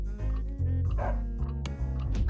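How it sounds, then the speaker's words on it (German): Dog barking in the 1997 PS1 Looney Tunes basketball game Space Jam, a loud, steady run of barks and yelps with game music underneath and no speech. "warum will der Hund mich zerfetzen?"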